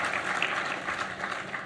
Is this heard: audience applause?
yes